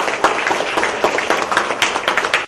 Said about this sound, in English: give a big round of applause to our world champion, Vishi Anand.